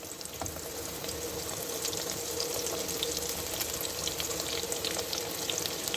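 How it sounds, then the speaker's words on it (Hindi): Chana dal frying in ghee for homemade mix nimko gives a steady, dense sizzle that stays fairly loud and unbroken from start to finish, with no voices. "मैं चनों की दाल इस घी के अंदर डाल देने लगी हूँ।"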